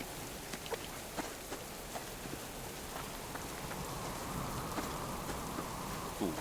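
Steady rain falls in the survival game Subsistence, a constant dense hiss with scattered soft drops and faint taps, and no voices.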